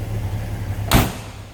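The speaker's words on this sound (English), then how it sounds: "Nice, the door closes." The door of a 1972 Chevrolet C10 Cheyenne pickup shuts with a single solid thud over a faint background hum, close and fairly loud.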